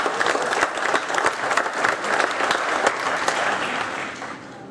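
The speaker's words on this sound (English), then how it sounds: "So let's all cheer and hope that they get to nationals." Applause and cheering at a high school rowing team's season wrap-up gathering, brisk dense clapping for several seconds that tapers off at the end, close and lively.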